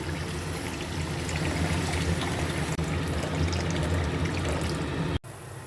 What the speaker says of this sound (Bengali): এবারে দিয়ে দেবো জল দিয়ে দিচ্ছি পরিমাণ মতো জল